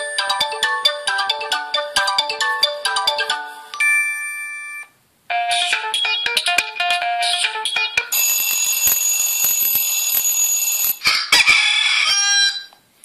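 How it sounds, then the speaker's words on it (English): Ringtone previews play one after another from a Meizu MX4 Pro phone speaker, bright electronic melodies and a rooster-crow alert in quick succession with brief gaps between them, loud and close, with no talking. "Ringtones."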